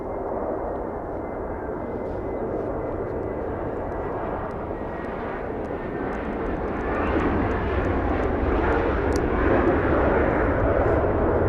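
An Embraer 175 airliner takes off from LAX, its engine roar building into a loud, steady broadband rumble that swells toward the end without any talk.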